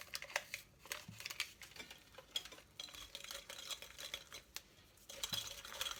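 Stirring vanilla sugar into shortbread cookie mixture in a bowl, close-up scraping strokes with light utensil clinks in an uneven rhythm, with no voices.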